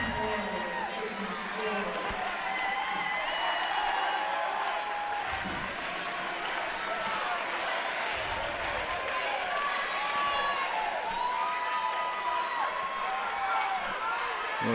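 The Emory cheering section at an NCAA Division III swimming championship, a continuous crowd roar of shouts and cheers echoing in a natatorium, with voices calling out over it.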